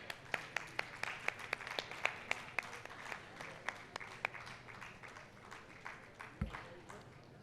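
An audience at a question-and-answer session claps in rapid, distinct handclaps that gradually thin out and soften over several seconds, with faint voices underneath.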